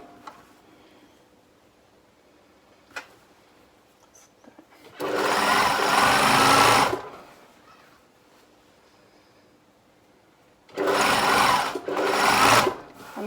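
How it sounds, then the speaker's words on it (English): A sewing machine stitching the shoulder seams of a dress in stable fabric, heard as two loud, rapid bursts of running stitches, with a short pause splitting the second run and near silence between them. "going to sew along both shoulder seams"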